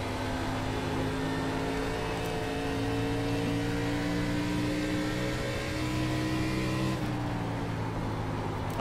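An ARCA race car at Iowa in the iRacing sim roars continuously at high revs, a steady loud droning engine note with a brief shift in pitch near the end, no talking over it.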